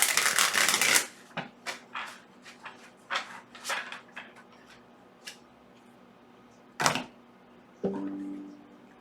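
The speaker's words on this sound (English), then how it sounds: "I want to shuffle again." A tarot deck is shuffled by hand, giving a soft dense riffle at the start followed by scattered faint card taps and flicks at close range.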